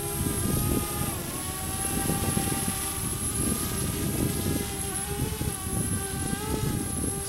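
DJI drone in its first outdoor flight, rotors keeping up a steady high-pitched whine over a low, fluttering rumble from wind, continuous and fairly close, with no talk.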